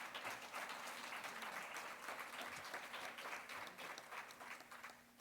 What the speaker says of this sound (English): let's give a round of applause and thank you